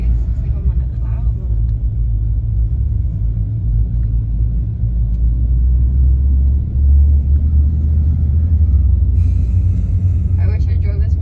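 A lifted pickup truck driving on a road, with a loud, steady low engine and road rumble heard from inside the cab throughout, and people talking over it.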